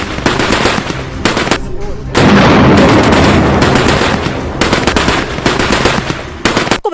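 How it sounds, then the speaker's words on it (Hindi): Automatic gunfire from an army encounter with militants in Jammu and Kashmir: loud, repeated bursts of rapid shots, one long sustained stretch in the middle, fired close by. "जवाबी फायरिंग शुरू हुई तो लंबी खिंचती चली गई"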